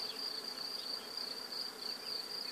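A swarm of honey bees buzzes steadily in a dense, even drone, close by but fairly quiet, with no voices.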